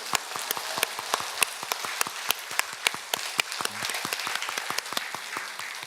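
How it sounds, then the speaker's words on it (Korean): A church congregation at a Sunday service claps for its teachers. Scattered individual hand claps patter steadily through a large room, sharp and irregular like rain, without voices. "정말 수고 많았습니다 하면서 박수 한번 쳐주세요."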